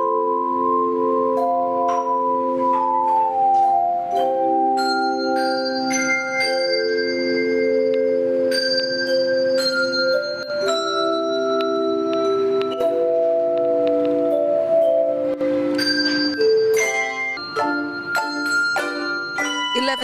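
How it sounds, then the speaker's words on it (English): Students in white gloves play handbells and hand chimes at a school performance, clear ringing tones sounding in steady melodic succession, overlapping and sustained, with a denser flurry of quick strikes near the end and no voices. "Wearing white gloves, the students play the bells and hand chimes beautifully, similar to a piano performance."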